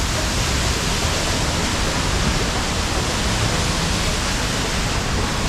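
Rifle Falls State Park waterfall thunders up close as a steady, loud, dense roar of falling water that drowns out everything else.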